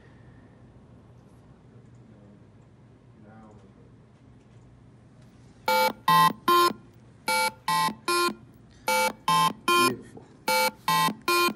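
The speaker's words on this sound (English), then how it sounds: "We have the third set of tones. This is an octave higher of harmonies." A custom Verilog-built alarm clock sounds a loud, regular series of short harmonic electronic tone bursts, an octave higher than before, starting after a quiet stretch with a soft word spoken.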